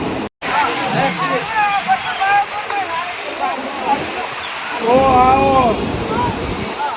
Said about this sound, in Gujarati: નગરપાલિકાની લાઈન પાણીની તૂટી